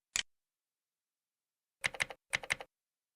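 Computer keyboard typing, heard as one lone tap followed after a pause by two quick clusters of crisp key clicks, close and clear in otherwise silent surroundings.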